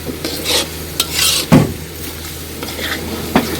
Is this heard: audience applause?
no